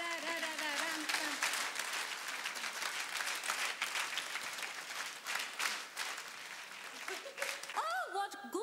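A live audience claps steadily in rhythm along with a sung song, loud and continuous throughout, with voices and singing mixed over the clapping.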